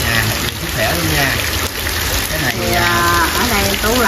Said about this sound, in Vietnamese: hôm nay trời mưa gió